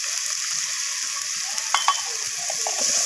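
Garlic and ginger paste with spices sizzles in a pan for a rohu fish curry with capsicum, mustard and poppy seed, giving a constant hiss with faint scraping stir strokes and a couple of light clinks.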